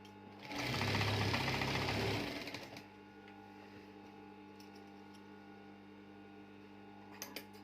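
A sewing machine stitching a bedsheet, a loud rapid mechanical whirring burst lasting about two seconds, then a quiet steady hum with faint clicks afterward, no speech.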